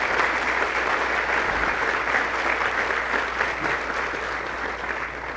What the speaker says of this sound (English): Let's give all of these important people a round of applause.